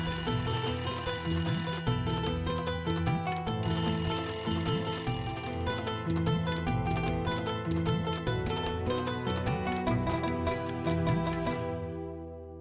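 A telephone rings in a home scene, repeated bursts of bright electronic ringing with short pauses, loud and close, with music-like tonal layers and the ringing trailing off at the end.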